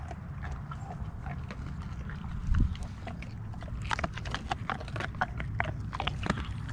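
A pack of dogs tears into a raw goat carcass, with wet biting, chewing and crunching sounds repeating at close range over a low rumble, plus one louder thump partway through.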